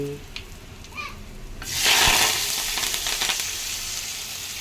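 Asafoetida dropped into hot oil for tempering bursts into a loud sudden sizzle midway, then settles into steady frying crackle after a quieter stretch.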